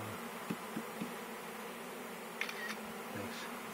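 Honeybees from a newly installed colony, with the queen among them, hum in a low steady drone, punctuated by a few faint clicks and taps.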